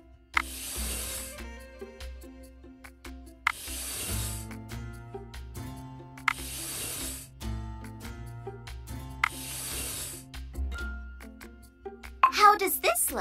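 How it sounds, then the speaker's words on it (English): A curved gouge carves out the inside of a wooden bowl in a children's video game, with four bursts of hissing, scooping scrapes at regular intervals set over a soft musical backdrop and a final chime. "Use the curved gouge to carve out the inside of the bowl."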